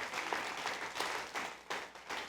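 A church congregation applauds during a sermon, a steady wash of clapping that swells and fades in soft waves, fairly faint and without speech.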